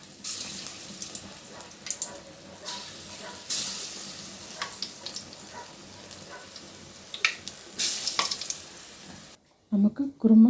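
Pakoda dough balls dropped into hot oil fry with a constant crackling sizzle, swelling into louder bursts of spatter a couple of times, before the frying cuts off and a few close clinks follow.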